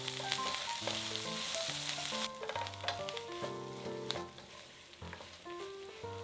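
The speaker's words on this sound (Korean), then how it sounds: "팬에 고구마 순을 모두 넣고 볶아주세요." Sweet potato stems stir-frying in a pan, with a steady, fairly loud sizzle and hiss that runs throughout beneath background music.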